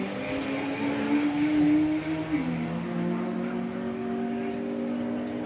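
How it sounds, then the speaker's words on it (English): Drag race cars launch off the line and accelerate hard down the Santa Pod strip at a VW drag racing eliminations event, a loud sustained engine roar with a rising then dropping pitch, commentary voice faintly mixed in. "green light drag race"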